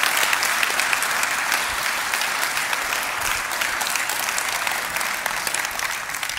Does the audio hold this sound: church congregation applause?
yes